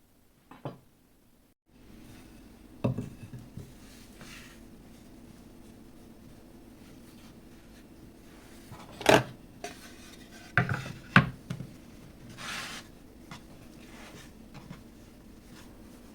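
Egg noodle dough rolled up around a rolling pin and cut with a sharp knife on a board: a few scattered knocks and thuds, some in quick pairs, separated by long quiet stretches of faint room hum.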